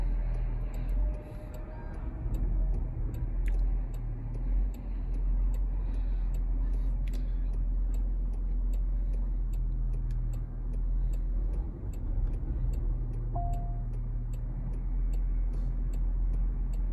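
A 2023 Range Rover's turn signal ticks at an even pace inside the cabin during automatic park assist, faint and regular over a low engine hum, no voices.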